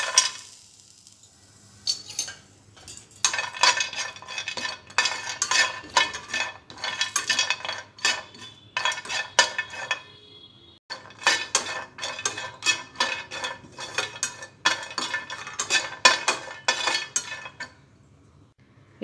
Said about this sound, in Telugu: నువ్వులు ఫ్రై చేసుకున్న తర్వాత ఎండు కొబ్బరి ఫ్రై చేసుకోవాలి